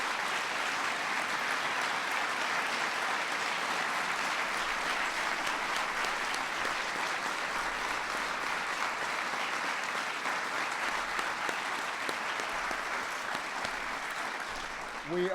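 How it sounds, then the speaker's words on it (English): Sustained applause from an audience at a White House ceremony for the National Medals of Science and Technology and Innovation, a dense steady wash of clapping that continues throughout. "let's please give one more big round of applause"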